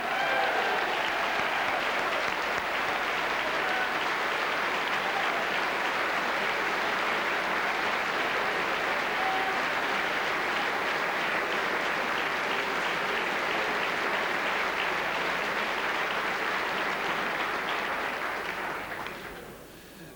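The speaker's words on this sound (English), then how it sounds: "a special round of applause" A large audience at the 1998 GAA All-Stars awards ceremony gives sustained applause, a steady, full roar of clapping for about eighteen seconds before it fades out.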